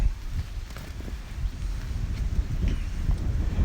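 Wind gusting on an exposed mountain hiking trail, a steady low buffeting roar with rumbling bursts close on the microphone, alone without talk.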